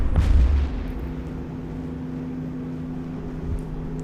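A ship blows up in EVE Echoes PvP combat: a loud, deep explosive boom opens, then a low steady rumble with sustained droning tones lingers alone, swelling slightly near the end.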